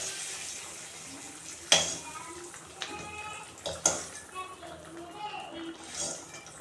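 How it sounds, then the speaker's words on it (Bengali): Eggs dropped one at a time into a pot of simmering masoor lentil dal with tomato and onion: two soft plops a couple of seconds apart over a low bubbling, watery background. "একে একে ডিমগুলো দিয়ে দেব।"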